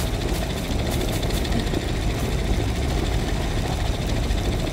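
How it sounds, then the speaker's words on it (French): Steady rumbling idle of a V8 engine mounted at the rear of a vehicle in the space game Astroneer, a continuous low, dense drone with faint rhythmic pulsing and no speech. "on a un moteur V8 à l'arrière"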